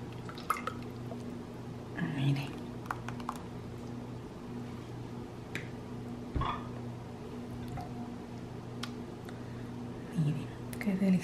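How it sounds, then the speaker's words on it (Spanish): A small splash of water is swirled and poured in a blender to rinse out ground guava while making agua fresca, with soft drips and sloshes under quiet talk in a kitchen. "aquí tengo otra poquita de agua, entonces enjuagamos"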